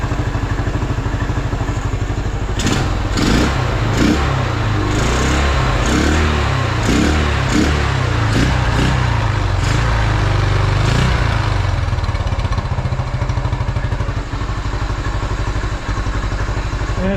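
A 1974 Honda XL250 motorcycle engine idles steadily and loudly up close, with a continuous low thrum and a string of sharper mechanical clatters early on. No one speaks.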